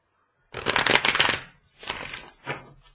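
Tarot cards are riffled and shuffled up close in three bursts, one long crisp flutter followed by two shorter ones, with no talking.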